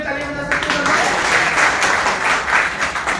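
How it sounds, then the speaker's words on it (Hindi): An audience at a meeting breaks into steady, dense applause for the guests, rising quickly and holding evenly loud throughout. "एक बार हम हमारे मेहमानों के लिए ताली बजा सकते हैं"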